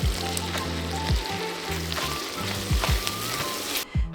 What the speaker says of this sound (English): Add the sliced brown mushrooms and cook until they begin to soften.